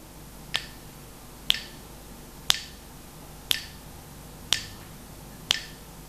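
Crisp finger snaps ring out six times at an even one-per-second pace, close and clear against a quiet background, with no talking.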